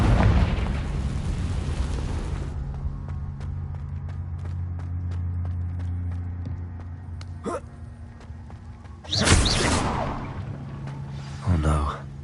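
A Confringo fire spell blasts in Hogwarts Legacy, a sudden broad burst near the end of a stretch of game ambience and music, followed by a second, smaller blast moments later.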